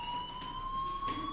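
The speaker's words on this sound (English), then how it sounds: "Do you hear that fire alarm?" A fire alarm in the video game Life is Strange sounds as a steady, continuous electronic tone, fairly loud and unbroken, with faint background noise beneath it.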